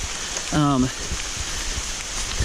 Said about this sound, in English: the rain has picked back up again